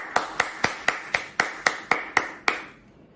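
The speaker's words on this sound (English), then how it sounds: "I would like to give a round of applause to my batchmates" About ten evenly spaced, sharp claps from a single person ring out close and alone, then stop, offered as applause for graduating Pre-U Class of 2021 batchmates.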